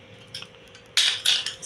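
Metal lid of a pressure cooker opening in a home kitchen, with a few light clinks followed by two sharper, louder metallic clatters close by.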